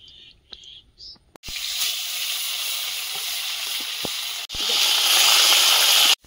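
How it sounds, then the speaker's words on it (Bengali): Loud, steady sizzling of tilapia frying in hot oil, close up, on an outdoor stove, with a short break partway through and a few faint clicks before it starts. "মাছগুলো ভেজে নেব"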